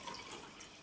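Water pours steadily into a cup, a soft continuous trickle heard alone at low level for under a second.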